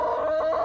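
Chickens in a backyard urban-homestead chicken run give a steady, close run of clucking and fowl calls with no talk over them.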